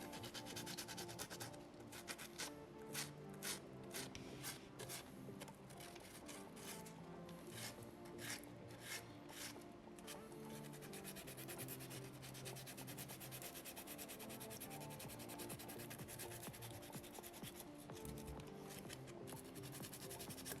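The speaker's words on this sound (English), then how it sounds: "that's what tells you that you're actually getting rid of stone and you're using your sandpaper effectively." A soapstone orca carving rubbed by hand with sandpaper, producing a continuous close, faint rasping scrape in quick repeated strokes throughout.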